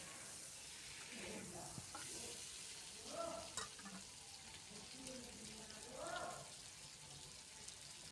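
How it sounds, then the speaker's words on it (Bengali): Boiled potatoes stirred in hot oil with dried chilli and bay leaf, a soft steady sizzle with scraping stirs and a few louder clatters of the spatula in the pan, close up. "দিয়ে দিচ্ছি সেদ্ধ করে রাখা আলুগুলো দিয়ে ভালো করে নেড়ে চেড়ে কিছুক্ষণ তেলের সাথে কষিয়ে নেব"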